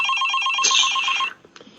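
A telephone rings with a rapid trilling electronic bell that repeats in quick pulses for over a second, loud and close, then cuts off abruptly, leaving a couple of faint clicks.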